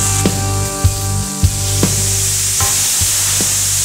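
A steak sears loudly on an Arteflame outdoor grill, a steady close hiss and crackle with a few sharp pops and thuds of the meat being handled, and no voices.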